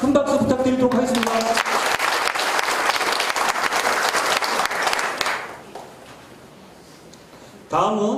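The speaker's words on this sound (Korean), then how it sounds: "자, 큰 박수 부탁드리도록 하겠습니다." Loud audience applause at a completed-building opening ceremony in Icheon, following an award presentation; dense clapping fills the room after a brief voice at the start, fades away near the end, then a voice returns.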